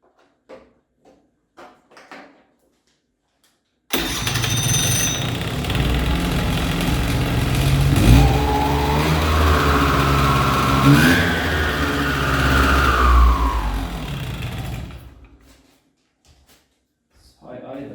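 A 2001 Hyosung Sense scooter engine starts after a few quiet knocks, then runs at a steady, fairly loud high idle for about ten seconds before cutting off. People talk briefly nearby.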